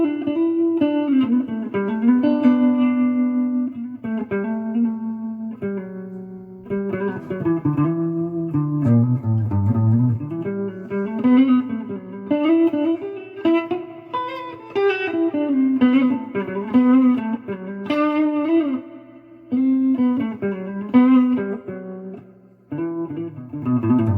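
Gibson GA-15 RVT Explorer tube amp with its reverb and tremolo engaged, playing a long, continuous guitar passage of chords and melodic runs, washed in reverb with a pulsing tremolo, loud and close.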